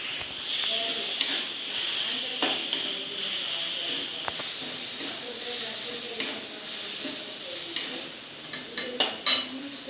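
Soya chunks sautéed with chilli powder in a pan, a steady hiss and sizzle with intermittent scraping and stirring clicks, close and fairly loud, with no talking.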